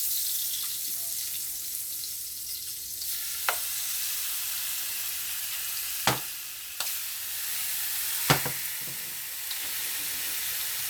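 Seasoned T-bone steaks fry in butter in a pan with a loud, continuous hiss, broken by a few sharp pops and spatters.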